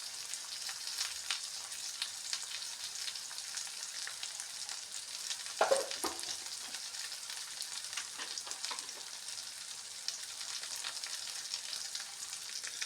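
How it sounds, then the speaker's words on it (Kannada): Food frying in a pan with a steady, close sizzle and hiss, one brief stir or clatter midway, no talking. "ಇದಿಲ್ಲಿ ಫ್ರೈ ಆಗ್ತಾ ಇರಲಿ."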